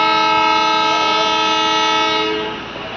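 A DEMU passenger train on the Raichur–Guntakal line blares a long, loud, steady multi-tone horn blast that fades near the end, with faint rolling rail noise beneath.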